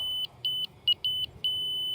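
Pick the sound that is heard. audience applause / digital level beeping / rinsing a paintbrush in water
digital level beeping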